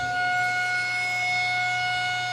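A steady electronic siren tone from a livestock feeder's cow-call siren holds at a constant pitch with layered harmonics, loud and continuous over a low hum.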